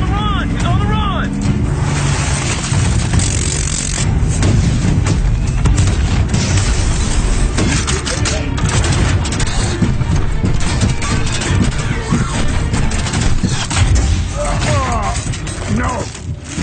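Missiles launch and explode during a loud action scene from Transformers: Age of Extinction, with a dense, continuous roar of blasts, crashes and rumbling under shouting voices.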